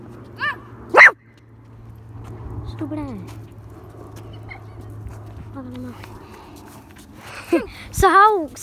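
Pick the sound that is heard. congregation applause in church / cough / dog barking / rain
dog barking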